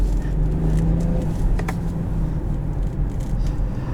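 Steady, loud low drone of a BMW B58 turbocharged inline six-cylinder engine in a 2022 BMW X5 xDrive40i on the road, a continuous rumble with no clear revving peaks.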